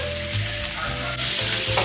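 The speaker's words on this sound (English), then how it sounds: "So we'll just let it boil." Spicy broth in a pot on the stove gives a steady, close bubbling and sizzling hiss that runs unbroken and fairly loud, with low rolling bursts pulsing through it and no one talking.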